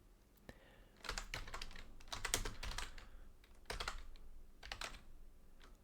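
Computer keyboard typing while entering a glossary term into translation software: irregular bursts of quick, close key clicks with brief pauses between words, fairly soft and with no voices.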